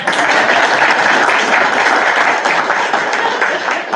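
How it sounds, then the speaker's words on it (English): Audience clapping fills a school board meeting of St. Martin Parish, Louisiana: a dense, steady wash of many hands held at full strength for the whole stretch, with no talk over it. "Y'all supposed to clap right there."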